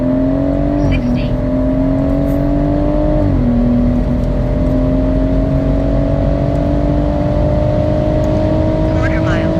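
BMW M140i and 240i, stage 2 plus tuned, accelerating in a quarter mile race: a loud continuous engine drone rising steadily in pitch, with a brief gear-change dip early on, heard from inside the car.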